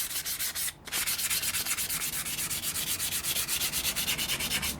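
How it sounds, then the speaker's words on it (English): Fine 400 grade abrasive is rubbed over an engine case in quick, even back-and-forth strokes, a close, steady rhythmic hiss with one brief pause near the start and no voices. "So let's just try giving it all a light rubbing over with this."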